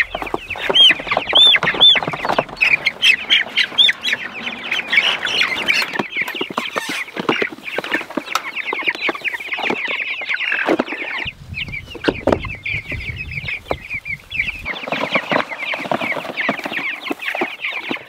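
Meat chickens cluck and squawk loudly at night while being handled and moved, a dense, agitated chorus of close birds with rustling and flapping throughout.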